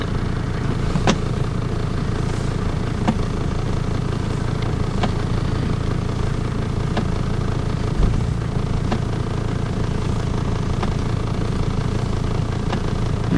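A 1990 Mercedes-Benz 300D with a 2.5 diesel engine idles at operating temperature, a steady low clattering rumble with faint regular ticks, heard close and alone for the whole stretch.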